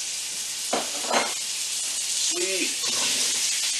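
Bacon, carrots, potato and sweet potato fry in a pan with a bright, steady hiss up close, as a voice speaks briefly over it.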